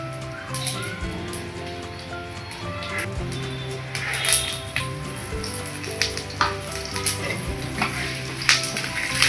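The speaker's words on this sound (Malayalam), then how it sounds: "ഉഴുന്നുപരിപ്പൊക്കെ നന്നായിട്ട് ഒന്ന് മൂത്ത് ഗോൾഡൻ കളർ ആകുമ്പോഴത്തേനും നമുക്കതിലേക്ക് ഒരു വറ്റൽമുളക് മുറിച്ചതും കുറച്ച് കറിവേപ്പിലയും ചേർത്ത് കൊടുക്കാം." Urad dal fries in oil with broken dried red chili and curry leaves for beetroot thoran, a dense close sizzle with popping crackles and stirring scrapes that grow busier toward the end.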